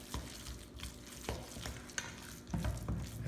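Siomai meat filling being mixed by hand with added scallions: close, wet squelching and stirring sounds that continue steadily and grow a bit thicker near the end.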